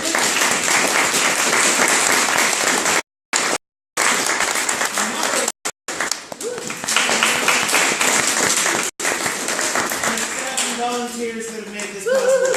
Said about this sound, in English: Let's have another round of applause for our candidates.